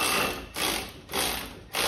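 Three rapid clicking bursts from a ratchet torque wrench tightening front hub bolts on a 2017 Chevy Bolt, each a close, loud run of clicks with short pauses between.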